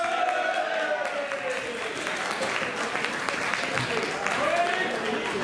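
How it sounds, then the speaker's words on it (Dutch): An outdoor crowd at a youth and children's race in Arendonk keeps up steady clapping for the podium. The applause is sustained and fairly close, and an announcer's amplified voice carries over it. "nog eens een applaus voor dit prachtige podium"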